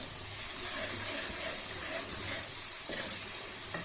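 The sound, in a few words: coriander and green chili added to sizzling dal masala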